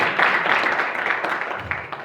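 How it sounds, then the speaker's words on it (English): Audience applause, a dense, loud wash of clapping that holds steady and slowly tapers over a couple of seconds. "So you guys can clap for that."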